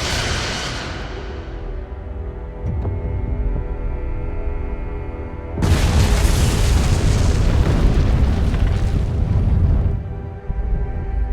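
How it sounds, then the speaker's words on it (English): Photon torpedoes fire and detonate in the Star Trek: Resurgence video game, a loud sustained whoosh followed by a heavy rumbling explosion that swells, holds for several seconds and then tapers off. "Firing photon torpedoes."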